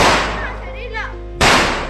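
Homemade Diwali firecracker bombs, made by binding four crackers together, go off in two sharp, loud bangs, one at the start and one after a short pause, with a voice calling out between them.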